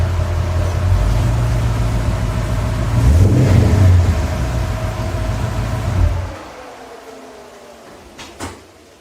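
A 1969 Plymouth Fury III driving in the rain, its engine a steady low hum and road rush heard from inside the car that swells briefly, then fades away, followed by a short clatter.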